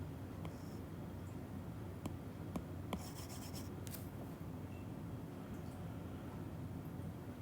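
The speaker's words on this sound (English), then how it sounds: "I'm going to erase part of this stuff" A board eraser rubbing across a classroom board with a steady, continuous scrubbing texture at moderate level, broken by a few faint ticks and taps, with no voices.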